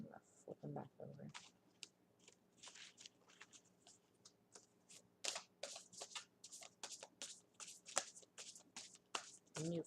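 Tarot cards are flipped over and shuffled, making soft, quick riffling and slapping bursts in irregular clusters, close but quiet, with a low voice murmuring in between.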